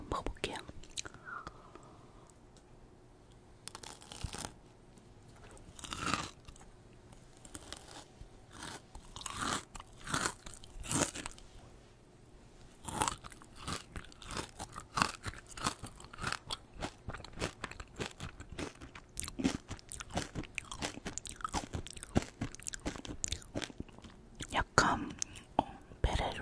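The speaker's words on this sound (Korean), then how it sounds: "초콜릿 한번 먹어볼게요." Swiss chocolate is eaten up close for a soft-spoken snack tasting, with crisp bites followed by crunchy chewing and small sticky mouth sounds, while a person whispers over parts of it.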